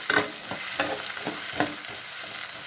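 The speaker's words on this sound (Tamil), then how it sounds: "சின்ன வெங்காயம் சேர்த்துக்கலாம். இந்த எண்ணெயிலே நல்லா வணக்கிக்கலாம்." Small shallots fry in hot oil for a Tamil fish curry, a steady sizzle punctuated by several regular stirring scrapes and spoon knocks close by.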